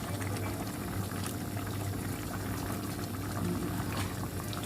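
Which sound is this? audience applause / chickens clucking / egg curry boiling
egg curry boiling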